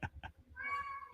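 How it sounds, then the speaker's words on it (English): A house cat gives two short chirps followed by a longer, clear, drawn-out meow, close and fairly quiet indoors. "my cat also wants to talk, say something"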